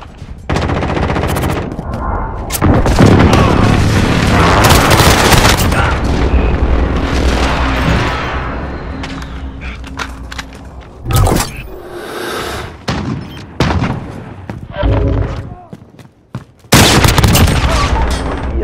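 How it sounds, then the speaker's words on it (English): Video game combat with an allied precision airstrike: heavy booming explosions and bursts of machine-gun fire come in rapid, uneven clusters, loud and close, with brief lulls between volleys. "Allied precision airstrike incoming."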